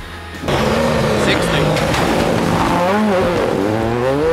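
A Ford Fiesta R5 Plus rally car on a special stage of a Welsh national rally, its engine revving hard up and down close by, under a co-driver calling pace notes.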